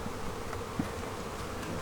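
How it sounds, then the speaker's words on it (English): Honey bees buzzing around hive frames during a nectar flow in Georgia, a steady, soft, diffuse hum that runs continuously at close range, with one brief low thump partway through and no voices. "Bees feasting."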